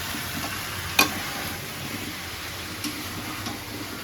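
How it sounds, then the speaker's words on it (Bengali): Taro stolons with dried fish sizzling and frying in a pan while being stirred, a steady close crackle with a couple of soft scraping knocks, no talk. "এখানে আমার লতিটা মিক্স করে ফেলছি সুন্দর করে"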